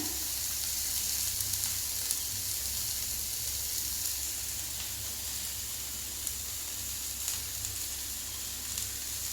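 Cassava pieces for adai hit a hot vessel and sizzle steadily, a close, even frying hiss that holds without pause throughout, with no voices.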